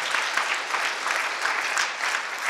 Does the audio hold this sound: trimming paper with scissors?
no